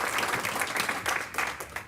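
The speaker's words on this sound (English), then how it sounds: "I want to go ahead and give him a round of applause." Short burst of audience applause at a school board of education meeting, moderately loud clapping from a roomful of people for an absent student.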